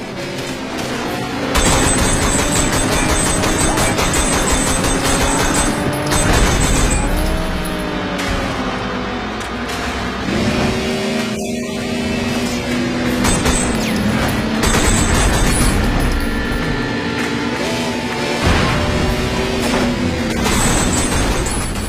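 Sleeping Dogs car chase with roaring engines, bursts of gunfire and booming crashes, loud and continuous as vehicles speed and tires are shot out.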